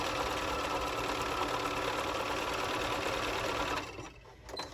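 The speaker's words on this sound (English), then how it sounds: "Make sure I'm meeting up with the needle and the red line down here," A sewing machine stitches steadily across a quilt block, a close, even, fast mechanical whir running for several seconds before stopping abruptly, with no talk.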